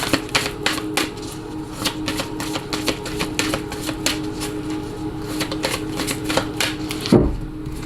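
Oracle cards are shuffled and drawn, giving a close, rapid run of crisp clicking and flicking sounds that lasts several seconds and ends with a soft thump, with no talking.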